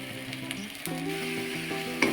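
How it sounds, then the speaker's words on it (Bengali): Turmeric and Kashmiri chili powders fry in oil for a cauliflower and paneer curry, with a continuous soft sizzle and faint stirring, heard briefly and close up beneath a low tonal hum. "মশলা ভাজা হয়ে গেছে, মশলা থেকে তেল ছেড়ে দিয়েছে।"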